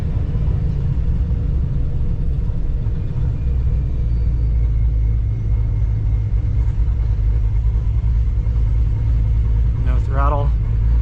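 A car rolls along in second gear on its own, its engine giving a steady low rumble throughout, with a short burst of talk near the end.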